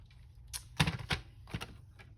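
Paper is cut on a paper trimmer for a craft journal: a few sharp, close clacks and short slicing sounds in quick succession, with quiet gaps between.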